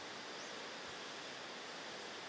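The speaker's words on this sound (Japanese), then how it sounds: "あの水がこう押し寄せるこう水流の音が" Steady rushing roar of a waterfall hidden in greenery near a beach on an island, a dense, unbroken hiss of falling water heard from some distance with no voices.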